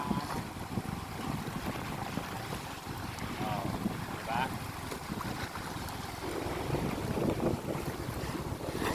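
Strong monsoon wind roars steadily across the microphone at a baywalk on Talim Island, Binangonan, Rizal, mixed with a low engine-like rumble and choppy sea water, while a voice briefly speaks over it.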